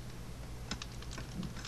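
Typewriter keys clack in the Alan Wake video game, a quick irregular run of light taps over a low steady background hum, faint and with no one talking.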